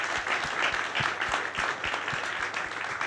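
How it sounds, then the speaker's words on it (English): A seated audience at a club lunch event applauds, dense rapid clapping from many hands filling the room at fairly loud, even level throughout, no speech over it. "Let's give them a round of applause."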